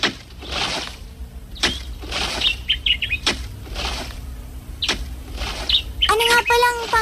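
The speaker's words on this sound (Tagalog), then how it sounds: "Hindi niyo ba naririnig ang huni niya?" A songbird chirps and trills in bright bursts while wings flap in quick repeated whooshes, with people talking throughout.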